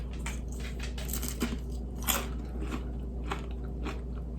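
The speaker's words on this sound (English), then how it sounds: "you hear the crunch?" Crunchy bites into a fried keto sopapilla, with repeated crisp crackling chews up close over a steady low hum, no talking.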